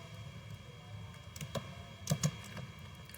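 Soft clicks of typing on a computer keyboard come in a few scattered bursts, with a couple of firmer key presses near the end over a quiet room hum.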